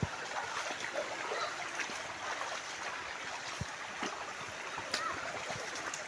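Stream water rushes steadily toward Iringan Falls, a broad continuous wash with occasional small splashes and knocks, moderately near and fairly soft, with no talking.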